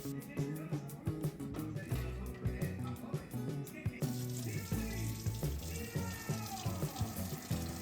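Shower water runs steadily in a home bathroom, a continuous splashing hiss that carries on without a break, with a slight change in tone partway through.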